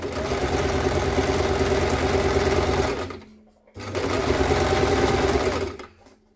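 A sewing machine stitches fabric in two long, loud runs of rapid, even mechanical chatter, each stopping abruptly, with a short quiet gap between them.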